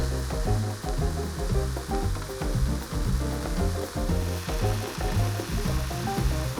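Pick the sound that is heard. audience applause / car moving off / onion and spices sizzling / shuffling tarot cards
onion and spices sizzling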